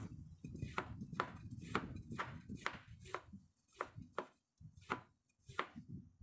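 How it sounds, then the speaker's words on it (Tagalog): Knife slicing fresh young, still slightly firm ginger thinly on a board, a steady run of crisp close chopping taps, about a dozen strokes with brief pauses. "Madali lang siya hiwain pag kutsilyo."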